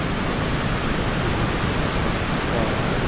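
Khone Phapheng waterfall roaring, a dense, steady broadband rush of falling water that fills the whole clip without a break.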